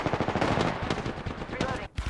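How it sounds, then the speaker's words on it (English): Rapid bursts of automatic gunfire in an Apex Legends match rattle close and dense, a fast stuttering volley with a short gap near the end and faint talk underneath. "Getting shot at."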